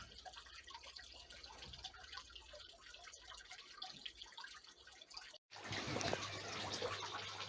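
Garden fountain pump spraying water after cleaning before the summer season, giving a steady wet hiss and splashing that grows louder and fuller in the last seconds after a brief gap.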